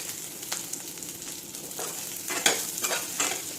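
Brinjal pieces being sautéed in hot oil in a pan, a steady close sizzle broken by several sharp scraping stirs of a spoon, with no talking.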